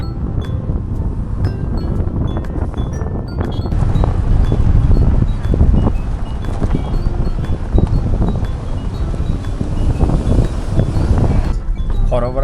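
Gusty wind on a mountain road near Cherrapunji in Meghalaya, a steady broadband rush with rumbling buffeting against the microphone throughout, loud and continuous.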